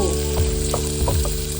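Onions fry in a pressure cooker for chicken pulao, giving a steady close sizzle with a few soft scrapes of stirring across the short stretch and no talking.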